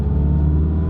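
Stage 3+ tuned VW Golf R engine droning steadily under load while driving, a close, loud, low rumble with no talking.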